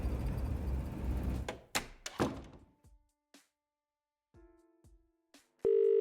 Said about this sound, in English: There's a dial tone.